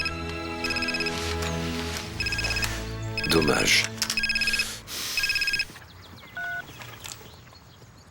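Phone ringtone playing in repeated musical bursts, loud and close, alternating with speech from people in the room in a TV drama scene.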